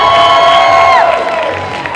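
A crowd cheers and whoops loudly for a Deadpool cosplayer, with a shrill rising-and-falling whistle or shout above the noise that fades toward the end.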